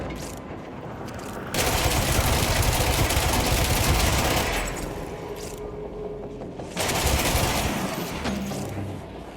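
Gunfire in the video game Control, a sustained burst of rapid shots that swells loud for several seconds, eases, then returns, with mechanical clatter and no talking.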